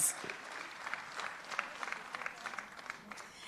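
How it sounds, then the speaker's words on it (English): An audience at an awards ceremony for women agro processors claps in a light, scattered round of applause, fairly faint and distant, with no talk over it. "Can we please give them a round of applause?"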